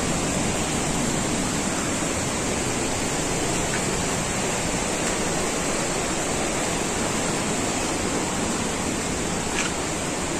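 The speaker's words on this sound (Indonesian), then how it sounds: "itu ada air terjun di depan kita, dan di depannya ada 2 air terjun lagi" Langkuik Tinggi waterfall in Sumatra pours with a steady, loud, full roar that stays constant throughout, with no voices over the rushing water.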